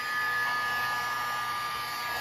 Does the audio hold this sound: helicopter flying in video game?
no